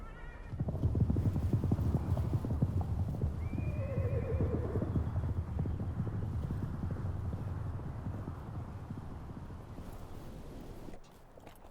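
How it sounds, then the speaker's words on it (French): Horses on the Patagonian pampa, kept by a Tehuelche gaucho raising cattle and horses: a close, steady patter of clip-clopping hooves runs throughout while a horse whinnies clearly once partway through, all under light wind. "José, un gaucho de l'ethnie Tehuelche, élève ici des bovins et des chevaux"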